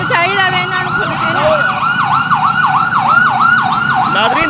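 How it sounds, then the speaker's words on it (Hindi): Ambulance siren wailing loudly on a roadside, a steady repeating rise-and-fall tone close by, with traffic rumble underneath. "देखो एक होर आ रही एम्बुलेंस"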